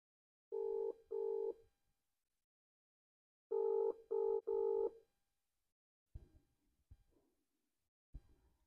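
A phone call to a mother-in-law rings out, with two bursts of ringback tone followed by a group of three, then a few faint clicks and muffled sounds near the end.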